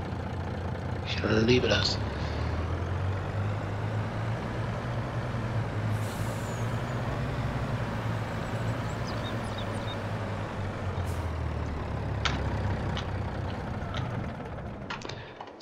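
A truck in the farming game Landwirtschafts-Simulator 22 idles with a deep, steady engine rumble throughout, air brakes hissing near the start and again later, while someone speaks briefly over it.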